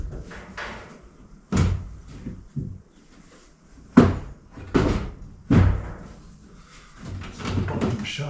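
A thin door in an off-grid tiny house under renovation is swung and shut several times, giving sharp wooden thuds and clunks at irregular intervals with quiet shuffling between them.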